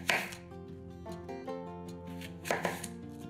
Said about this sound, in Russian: Все яблоки разрезаем на 4 части